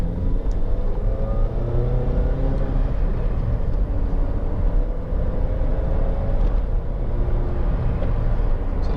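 Steady low road rumble and engine hum inside a 2008 Toyota RAV4 2.0 XT-R five-door on the move, quiet and even throughout with no voices.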